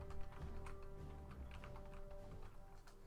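Keys tapped on a computer keyboard to enter a cheat code in a strategy game, soft continuous typing clicks under a steady background hum.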